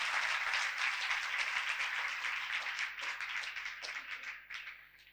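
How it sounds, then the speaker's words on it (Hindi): A congregation claps during a Christmas sermon, with a full burst of many hands that stays strong for a few seconds, then tapers into scattered claps and dies away. "खुदा के जलाल के लिए जोरदार तालियां बजाएंगे,"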